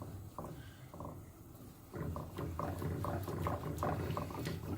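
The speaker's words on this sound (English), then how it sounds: "stir it for about 5 minutes until everything is nice and happy" Turmeric paste stirred in a pot on the stove, giving a soft, wet scraping and bubbling that sets in after a quiet start and then keeps going in steady, uneven strokes at close range, with no voices.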